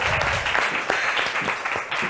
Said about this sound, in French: on applaudit Larissa, s'il vous plaît